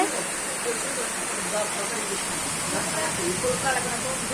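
Heavy rain pours down in a dense, steady hiss, with faint voices murmuring underneath.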